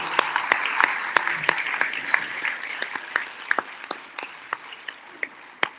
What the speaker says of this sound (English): Let's give both of them one last round of applause.